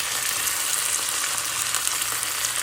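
A chuck roast searing in a very hot skillet, giving a loud, even, continuous sizzle up close with no talking.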